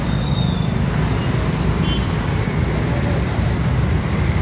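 Busy roadway with cars, tractors and trucks rolling past, a dense continuous rumble of passing vehicles with brief higher whines, loud and steady with no clear gaps.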